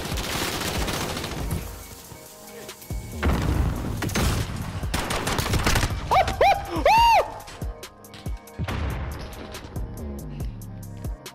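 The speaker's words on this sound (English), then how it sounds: "I'm gonna shoot this man with a pistol." Bursts of gunfire from a Call of Duty Modern Warfare match, repeated volleys of shots with rattling fire across the stretch, loud and close, mixed with other game effects.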